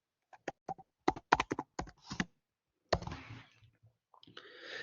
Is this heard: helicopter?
no